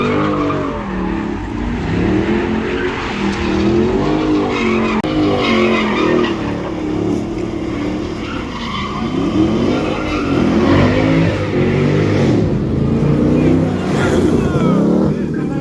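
An FRS car spins a donut at a car meet, tires squealing in long wavering cycles over a revving engine, loud and close, with crowd voices mixed underneath.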